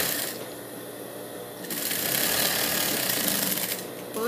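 A sewing machine runs steadily and fairly loud, stitching the fabric of a blue dress, with a louder, busier stretch partway through and no voices.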